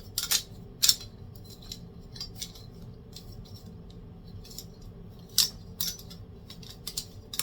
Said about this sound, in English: Hang on, let me cut this string.